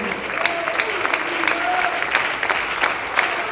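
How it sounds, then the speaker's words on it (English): A church congregation claps hands together during a sermon, a dense, steady patter of many palms close around the listener with crowd noise and a few voices mixed in. "Somebody clap your hands unto the Lord."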